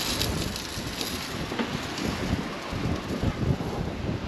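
Wind at a beach campsite buffets the microphone in a constant rough, gusty rumble and hiss with no pauses, loud and close, with no talking.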